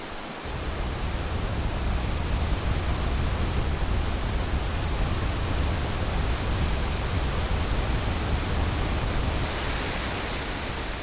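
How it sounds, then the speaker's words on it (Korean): Guryong Falls at Geumgangsan, a 74 m high waterfall, roaring as a dense, steady broadband rush that stays loud and unbroken throughout. "높이 74m로 금강산에서 가장 웅장하고 아름답다는 구룡폭포."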